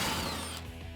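A ratchet with a 13 mm socket works a tire carrier bolt on a Jeep Wrangler JL, giving a brief close burst of rapid pawl clicking with metallic ringing, alone and without speech.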